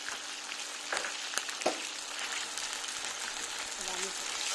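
Onions sizzling as they fry in a pan, a steady broad hiss with a few soft clinks and stirring sounds, under a voice speaking.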